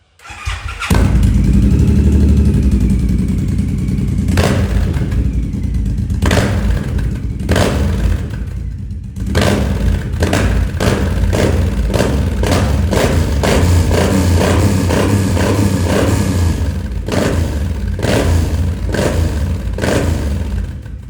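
A Suzuki Boulevard M109R heavy cruiser with an aftermarket exhaust starts up and idles loudly nearby, its deep rumble broken by repeated sharp throttle blips and revs.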